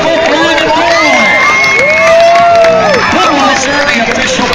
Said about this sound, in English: How about a round of applause for Brian and Roy?